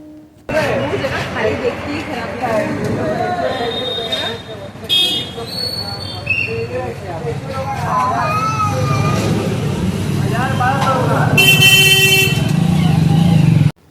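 Busy street traffic outside a Kali Puja pandal, with a car turning, motorcycle and car engines rumbling nearby, several horn honks, and people talking in the background.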